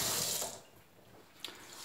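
Warm tap water runs into a bowl for spelt mixed-grain bread dough, a steady rushing pour that fades midway, followed by a small clink near the end.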